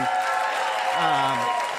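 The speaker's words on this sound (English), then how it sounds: "I don't know what the fuck you're applauding for." A comedy club audience applauds steadily throughout, a dense wash of clapping that stays level, while a low voice can be heard briefly beneath it.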